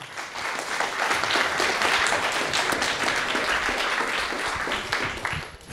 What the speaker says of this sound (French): Vous pouvez l'applaudir effectivement